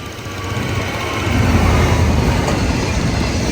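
A train rumbles past close by, a new locomotive at its head, with a steady loud clatter of wheels and cars that swells toward the middle and holds.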